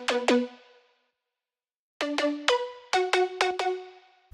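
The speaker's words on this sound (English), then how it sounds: "as you move the decay down, it's going to make it into a really plucky sound" A plucky synth with a short decay envelope plays bright percussive notes: a quick pair, a second of silence, then a run of staccato plucks, each fading fast, clean and fairly quiet.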